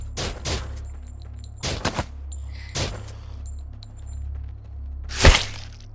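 Gunfire in the VR video game Surv1v3, several loud, sharp shots in separate short bursts, some doubled, over a low steady hum, with a final heavy blast near the end.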